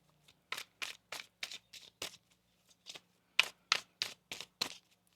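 Oracle cards shuffled in a crisp rhythmic series of about a dozen sharp riffling slaps in two groups, close and clear with nothing else audible.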